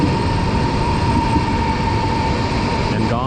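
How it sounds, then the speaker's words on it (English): An older train passes through a station in China, a loud, steady, close rumble with a constant hum that holds throughout. "Another train is passing in, but it looks a bit older than the one we were driving on just now."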